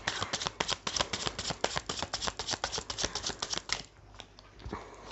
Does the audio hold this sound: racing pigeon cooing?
no